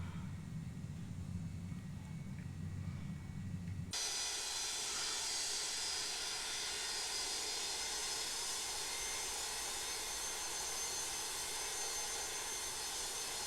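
An MD-80's auxiliary power unit running in X-Plane 11, a steady broad hiss and whine that switches on abruptly after a low rumble and then holds constant, fairly quiet and alone.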